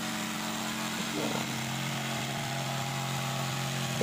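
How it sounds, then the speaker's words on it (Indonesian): An electric jigsaw cuts calligraphy letters and ornaments from MDF board, producing a continuous buzzing, rasping drone at close range that holds steady for the whole stretch. "Jadi kita potong-potong dulu menggunakan mesin jigsaw."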